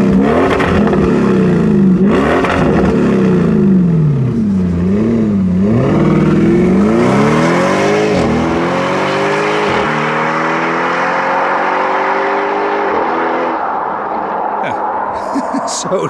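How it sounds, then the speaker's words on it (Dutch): A Ferrari F12tdf engine revs hard and loud through an Akrapovic exhaust, pitch sweeping up and down repeatedly, with a rasping exhaust note that fades near the end. "Een Akrapovic-pijp."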